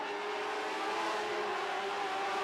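Lightning sprint race cars roaring around a dirt oval during a feature race, a continuous loud, droning engine whine with steady pitch and no talk.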